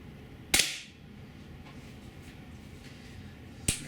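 A GAMO P-900 IGT gas piston .177 caliber air pistol fired during a shooting test: one sharp, loud crack with a short tail, then quiet background, then a second crack about three seconds later.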